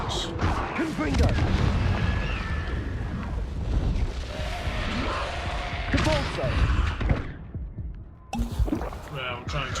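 A Confringo blasting spell explodes in the video game Hogwarts Legacy, with heavy booming blasts and rumbling combat noise under someone talking.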